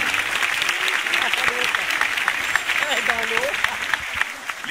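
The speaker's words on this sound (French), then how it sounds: "Quelques applaudissements bien mérités pour nos deux otaries." Applause from the audience at a sea lion show at Beauval zoo, a steady wash of clapping throughout with a voice talking over it.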